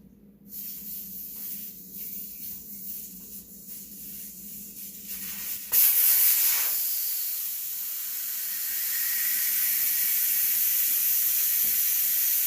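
Air rushes out of a tire through its valve stem after the core is pulled, on a manual tire changer. A faint hum gives way to a sudden loud, steady hiss that holds for several seconds.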